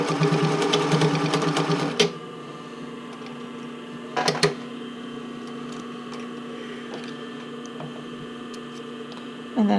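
A sewing machine runs a back stitch on a bra, whirring loudly for about two seconds, then stopping with a low hum left in the background, followed by a short burst of stitching and a brief restart at the end.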